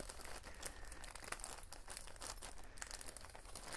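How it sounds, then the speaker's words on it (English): A padded envelope holding a 3D printer hotend is opened, giving faint, steady crinkling and tearing of paper and plastic close by, with no talking. "Now let's go ahead and see what we got in the envelope here."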